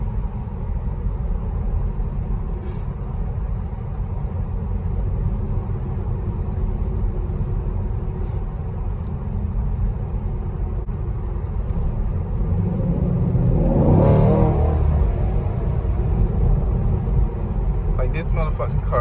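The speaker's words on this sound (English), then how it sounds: "car sounds so good," Chevrolet SS engine heard from inside while driving, a steady low rumble that swells briefly as it revs, with someone talking over it throughout.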